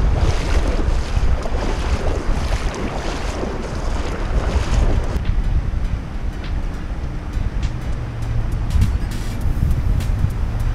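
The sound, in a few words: fast-flowing water in a river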